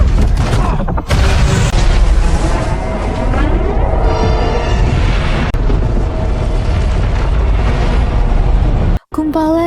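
A huge rumbling explosion in a film's Upside Down roars continuously, dense and loud, with crackling debris and a rising whoosh, cutting briefly to near-silence near the end.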